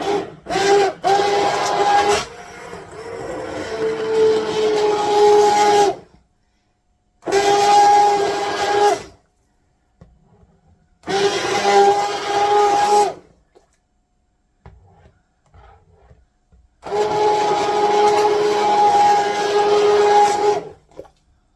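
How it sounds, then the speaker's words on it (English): An immersion blender purees hot tomato soup with onions in four loud bursts, each a few seconds long, separated by short silent pauses. "You want to blend all those onions and everything else all in there."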